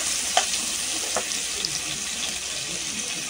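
Potato and pointed gourd fry in oil in a pan, a continuous close sizzle with faint clicks of stirring and no one speaking.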